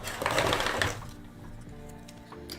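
A sewing machine runs briefly across practice fabric, a short close burst of buzzing stitches that stops after about a second, leaving faint handling noise.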